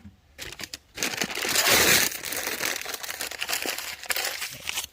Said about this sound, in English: tuck some paper in some of the gaps